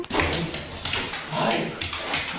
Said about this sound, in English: Hi, it's a puppy.